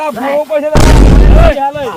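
A Diwali firecracker bomb bursts with one sharp, loud bang that booms and rumbles for nearly a second, close by, with people talking just before and after.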